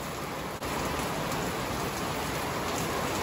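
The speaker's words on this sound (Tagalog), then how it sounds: "yung ulan naman ang malakas ngayon" Heavy rain pours steadily in the Parañaque area after Typhoon Uwan made landfall, a dense, continuous, close hiss of water hitting surfaces with no let-up and no talking.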